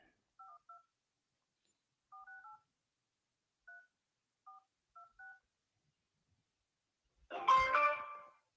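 A telephone number is dialed on a keypad: short electronic tones in small clusters with quiet gaps, close and clear, followed by a brief louder burst of tone near the end.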